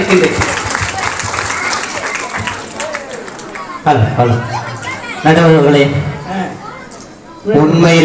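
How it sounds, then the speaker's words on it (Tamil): Applause from a Tamil debate-forum audience rises and falls, broken by short pauses, with voices and a little laughter mixed into the clapping. "கைத்தட்டலையே அன்போடு"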